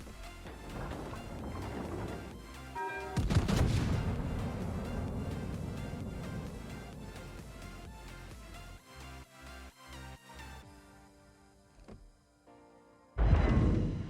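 A salvo from the ten 16-inch guns of the Amagi, a Japanese Tier VIII battleship in World of Warships, lands as a heavy booming crash followed by a long rumbling roll, then a second loud blast at the end.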